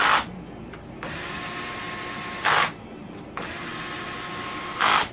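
A ratchet wrench tightens bolts on a Kawasaki KX engine during a top end rebuild, sounding three close, loud bursts of rapid clicking separated by pauses over a steady background hum.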